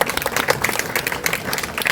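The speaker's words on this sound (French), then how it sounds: "On peut l'applaudir." An outdoor audience claps for a sheep shearer at a transhumance event, a dense burst of steady applause from a mid-sized crowd heard close by.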